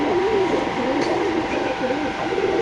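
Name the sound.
pigeon cooing, black Beauty pigeons for sale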